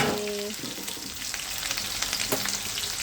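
Onions and curry leaves sautéing in a pan for a Tamil-style prawn curry, giving a steady close sizzle with a few stirring scrapes and no talking.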